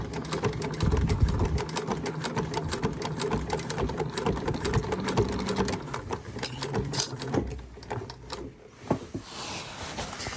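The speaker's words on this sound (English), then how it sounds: "We're sewing our handle right in there." A sewing machine runs in a fast, steady stitching burst close up, sewing a strap handle onto a fabric dopp kit utility bag, then slows with a few separate stitches and handling clicks near the end.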